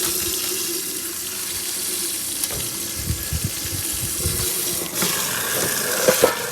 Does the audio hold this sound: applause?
no